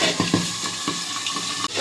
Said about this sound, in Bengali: এবার মাছগুলো ছেড়ে দেবো তেলে, চাপা দিয়ে দেবো।